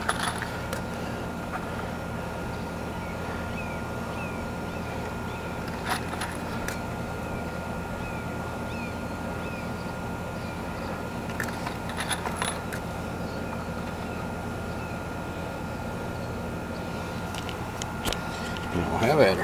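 Deck mate screws jingle and clink as they are handled on a deck build, with light metallic rattles scattered through a steady background and someone talking nearby.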